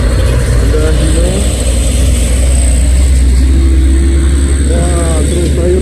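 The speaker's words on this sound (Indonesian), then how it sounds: "Wah, truk sayur nyalip ini." A vegetable truck overtakes on an uphill road, its engine a loud, steady low drone that fills the whole stretch, close by and unbroken, with voices talking over it.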